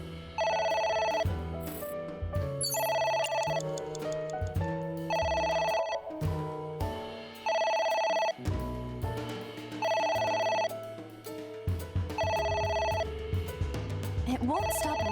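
A telephone rings persistently in the video game AI: The Somnium Files, with evenly spaced repeating ring bursts about every 1.5 seconds, loud and close over game music, and a voice talking now and then.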